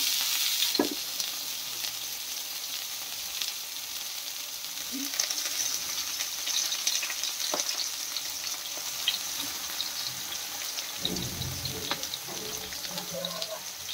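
Prawn paturi parcels laid one by one into hot mustard oil, giving a steady, fairly quiet sizzle with a few soft clatters and thumps as they go into the pan.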